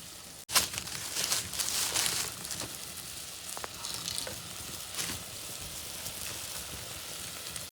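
Dhokli dough pieces dropped one by one into a pot of boiling water in a village kitchen, giving a steady bubbling sizzle with soft splashes, heard alone without talk.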